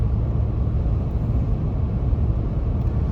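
A Ford Super Duty pickup with the 7.3 gas engine and 3.73 gears pulls up to highway speed, a steady low engine and road rumble holding loud and close from start to finish with no one talking.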